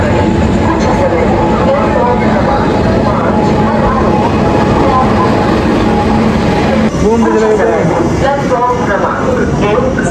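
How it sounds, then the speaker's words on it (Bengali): A train pulls out of a railway station platform, a loud continuous rumble and rattle of wagons filling the whole stretch, with voices and station bustle mixed in over the noise. "ওদের ট্রেন ছেড়ে দিয়েছে"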